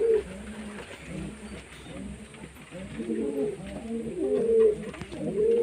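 Madras pigeons of an old line coo repeatedly in soft, low, rolling phrases, fairly close, with a steady murmur of background noise throughout.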